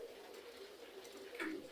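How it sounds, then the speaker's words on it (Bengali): Pigeons cooing softly at a home loft, low, faint calls with one slightly clearer coo near the end. "কবুতরের ডাক"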